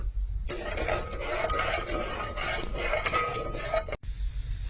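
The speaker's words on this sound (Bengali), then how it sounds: "এখন লাড়াচাড়া করে চিনিটা গলক" Sugar and water being stirred in a metal pot on a stove, a spoon scraping and clinking steadily against the pot for about three and a half seconds before stopping.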